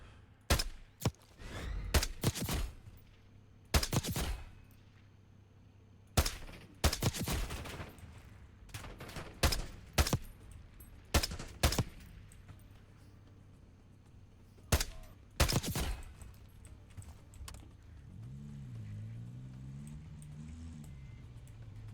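Gunfire in the video game Call of Duty Black Ops 6, repeated loud bursts of shots spread through the stretch with pauses between, over a low steady rumble, and a vehicle engine rising near the end.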